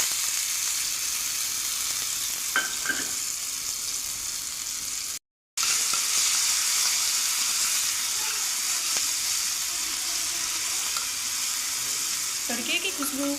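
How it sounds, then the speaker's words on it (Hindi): Garlic and chili paste hits hot ghee with cumin in a pan, a loud, steady, close sizzle and hiss, broken by a brief gap and some faint stirring clinks. "हम लहसुन मिर्ची का पेस्ट डाल देते हैं।"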